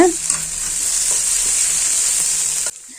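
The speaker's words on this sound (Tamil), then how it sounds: "கேரட் பீன்ஸ் முட்டைக்கோஸ் மூணுமே வந்து நம்ம ஆட் பண்ணிக்கலாம் போட்டு நல்லா வணக்கி எடுத்துக்கலாங்க" Carrot, beans and cabbage sautéing in hot oil for a lunch-box poriyal, a loud steady sizzle with faint stirring scrapes that cuts off abruptly near the end.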